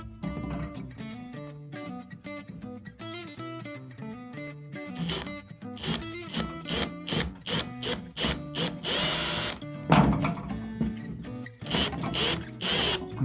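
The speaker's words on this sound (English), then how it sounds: "I used a drill bit because it's a little bit, the drill bit is it's a little better for this" A power drill with a drill bit boring a pilot hole while a towel and wine rack is being installed, heard as a series of short, stop-start motor whirs and bursts that grow louder and more frequent over time.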